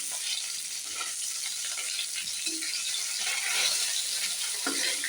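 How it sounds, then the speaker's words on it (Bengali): Small fish frying in smoking-hot oil in a wok, giving a steady, close, loud sizzle with light stirring rattles and scrapes throughout, and no talking. "এই আমার মাছ ভাজা হয়ে গেল"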